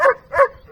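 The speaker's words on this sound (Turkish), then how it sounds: "Köpek de geldiğimizden beri susmadı." A dog gives two quick, sharp barks close by, followed by a softer yip.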